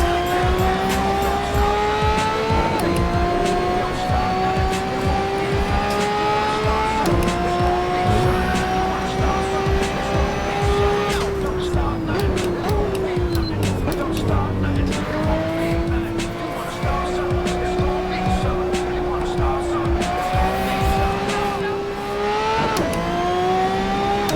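Race car in Assetto Corsa accelerating out of a corner, engine revving up through rising gear pitches with repeated shifts and some tire squeal, loud and continuous, with a voice talking over it.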